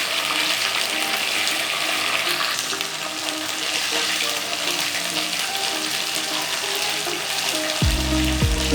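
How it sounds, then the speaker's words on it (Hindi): Garlic-ginger paste frying with cumin for spicy matar pulao, a dense, steady, loud sizzle that holds for several seconds with a faint low hum near the end, no voices. "थोड़ा सा ज़ीरा डालने के बाद हमने ये थोड़ा सा लहसुन अदरक का पेस्ट डाला है।"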